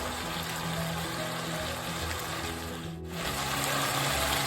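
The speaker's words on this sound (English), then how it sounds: "let's add our water." About half a cup of water is poured into a pan of stir-fried bitter melon and beef, giving a steady trickling, sizzling wash under a low hum, with a brief dip partway through.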